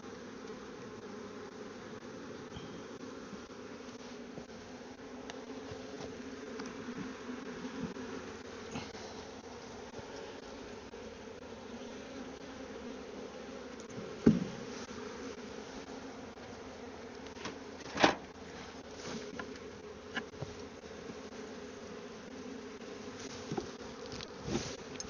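A honey bee swarm being moved into a new hive box gives off a continuous low, even buzz throughout, with a few brief knocks and clicks over it and no voices.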